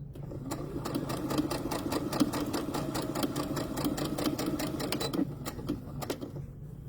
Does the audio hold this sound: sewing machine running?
yes